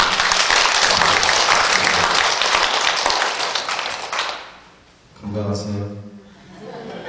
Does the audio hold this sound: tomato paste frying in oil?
no